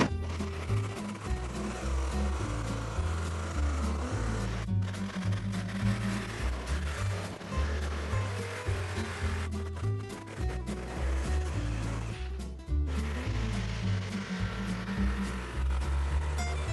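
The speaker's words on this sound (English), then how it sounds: "Got my old jigsaw here with a little metal blade in here." A jigsaw fitted with a small metal blade cuts a hole through the metal body of a van, a loud, steady, buzzing reciprocating drone that carries on almost without pause, with a few brief dips.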